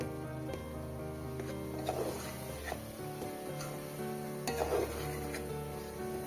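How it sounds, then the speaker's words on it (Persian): Chopped herbs and meat sizzle softly in a pan for a Gilan-style stew, with a steady fry under occasional scraping stir strokes and light clinks of a utensil. "سبزی رو هم با مواد 2-3 دقیقه تفت بدین."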